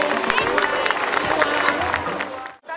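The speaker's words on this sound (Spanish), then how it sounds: "un fuerte aplauso para la murga infantil Triqui Traquito" Crowd at the 2015 Tegueste carnival applauds and cheers for a children's murga group, a dense continuous wash of clapping and voices that cuts off abruptly near the end.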